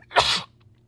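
A single loud, close sneeze from a person, one sharp burst lasting under half a second, followed by quiet.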